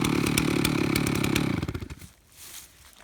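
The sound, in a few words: chainsaw mill engine running before being shut off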